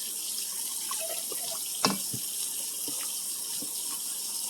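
Water from a tap runs steadily into a soup pot for a Dollar Tree sloppy joes soup, a constant splashing flow with a sharper gush and a few clinks partway through.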